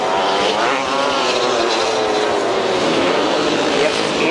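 A Honda two-stroke grasstrack racing motorcycle screams past at a spring classic meeting, a loud, sustained high-revving engine note mixed with other bikes and a commentator talking over it.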